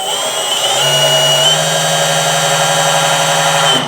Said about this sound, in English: just drilling a pilot hole because this Jatoba might crack